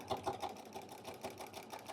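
A sewing machine with a walking foot stitches straight quilting lines through a baby quilt, a steady fast rhythmic whirring and clatter close by with no talk.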